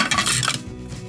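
A lid clacks onto a Thermomix TM5 bowl holding garlic for pizza sauce, a short metallic clatter and rattle that quickly settles.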